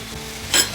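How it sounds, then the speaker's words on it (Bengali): Grated potato fries in a pan for a fasting-day kochuri with an even, close sizzle, broken by one quick scraping stir near the end. "আলুটা আমার একটু নাড়াচাড়া করে ভেজে নেওয়া হয়ে গেছে।"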